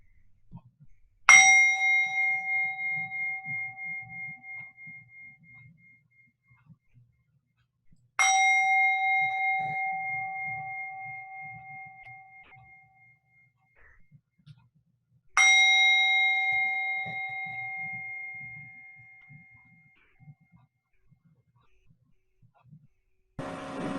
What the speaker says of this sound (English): let's begin our bells to begin this beautiful service today